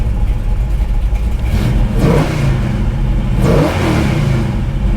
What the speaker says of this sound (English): So that is with the cutouts closed.